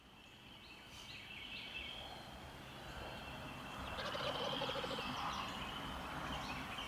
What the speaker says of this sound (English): We got several birds gobbling.